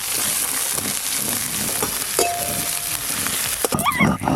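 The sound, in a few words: spices, dried chillies and chopped onion frying in mustard oil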